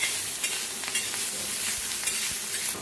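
Green chillies roasting in a pan for a spiced rice dish, giving off a steady soft sizzle with faint scraping stirs, close and quiet, no voices.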